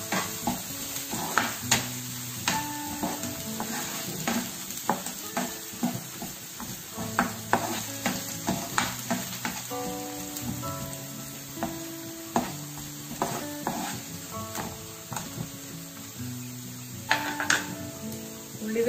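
Garlic, curry leaves and green chillies are stirred in a pan for a Kerala banana blossom and dried prawn curry, giving a steady sizzle with scraping stirs throughout, under background music.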